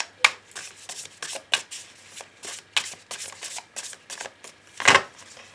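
Tarot cards are shuffled and cut close by in a run of crisp, papery riffling bursts with short pauses between them, the last burst the loudest, with no talking.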